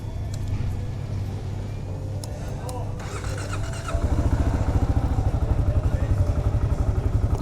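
A Kawasaki KLR motorcycle engine runs steadily close by, its low rumble stepping up louder and rougher partway through as the bike gets under way, with faint clatter over the drone.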